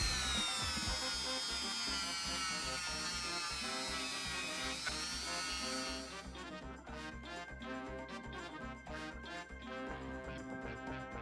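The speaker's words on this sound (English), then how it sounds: "I couldn't resist giving it a proper polishing." A cast silver Viking foxtail necklace is polished on a motorized polishing wheel, a steady high whine that gives way partway through to rougher, uneven buzzing and scraping as the piece is worked, close and continuous.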